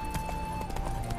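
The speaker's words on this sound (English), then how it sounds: "Spooking my horse." Horse hooves clip-clop steadily in The Witcher 3, a quick run of evenly spaced, close hoofbeats over a constant game ambience with no talk.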